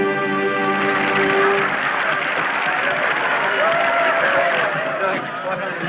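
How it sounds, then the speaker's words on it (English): Theatre audience applauding after a show, a dense crowd roar of clapping and cheering under a voice. "listen to them. They're still applauding."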